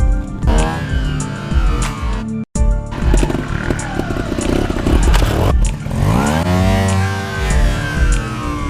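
A trials motorcycle performs the zap technique, with the engine revving sharply and surging, mixed with clattering and scraping as it clears an obstacle, loud and close.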